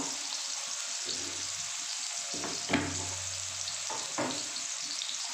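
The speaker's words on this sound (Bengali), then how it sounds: "আলুগুলো একটু লবণ দিয়ে একটু হলুদ দিয়ে আমি ভেজে নেব" Cut potato chunks with salt and turmeric frying in hot oil for a soybean kosha, giving a steady close sizzle with a few stirring scrapes.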